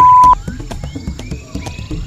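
A frog croaks outdoors in Africa, a series of short, rough calls repeated roughly every half second at moderate loudness, with a brief higher tone at the start.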